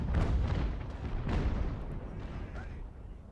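Artillery fire in the video game Ultimate General: American Revolution, two deep booming blasts rolling out and slowly decaying into a lingering rumble, loud and close.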